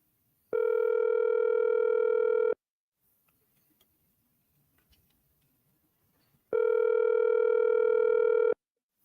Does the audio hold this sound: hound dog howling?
no